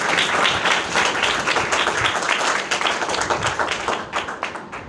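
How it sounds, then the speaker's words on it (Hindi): A church congregation gives the Lord loud, sustained applause, dense overlapping clapping filling the room close by and tapering slightly at the end. "आइए जोरदार तालियां खुदावंद के सलाम के लिए बजाते हैं"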